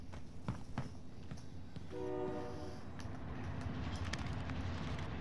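A train in the Call of Duty Warzone video game sounds a steady horn blast midway, with rumbling rail noise and scattered clicks around it, at moderate distance and fairly quiet.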